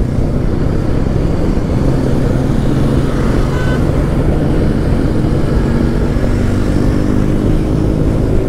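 A motorcycle cruises across a long bridge, its engine a loud, constant drone mixed with heavy wind rush that never lets up.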